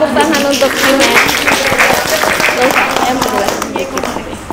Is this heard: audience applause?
yes